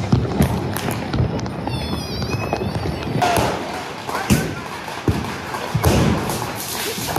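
Firecrackers set off near a house, giving several loud sharp bangs and thuds scattered across the span, mixed with people talking and moving nearby.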